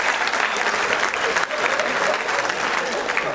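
An audience at a Hindi poetry recital applauds, a dense, loud and continuous wash of clapping from many hands that holds steady throughout with no pauses.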